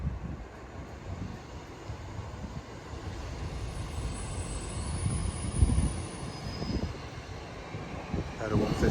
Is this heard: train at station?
yes